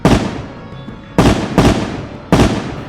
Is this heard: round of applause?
no